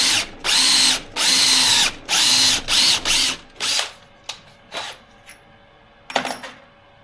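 Drill with a tapered bit boring a hole during windshield installation on a 1976 BMW 2002: several loud, close bursts of whirring drilling, separated by short pauses, then quieter intermittent clicks and handling noises.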